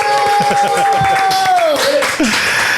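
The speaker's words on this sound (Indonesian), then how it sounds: "boleh tepuk tangan dulu ya, biar seru lah" Studio audience clapping at the start of a digital literacy podcast, a short burst of claps and light laughter mixed with a voice talking, plus a sustained tone gliding downward.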